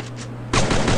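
Gunfire in a shooting video game erupts as a sudden loud, dense burst halfway through, after a steady hum of game background, with no talking.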